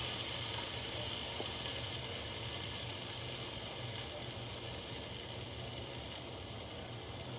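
Vegan French toast made with Just Egg frying in a pan on an electric stove at medium heat, giving a steady close hiss and sizzle that stays constant and alone.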